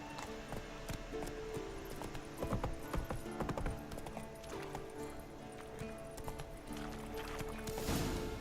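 Roach, Geralt's horse in The Witcher 3, galloping: rapid, rhythmic hoofbeats close up, steady throughout with occasional louder thuds and background game sounds.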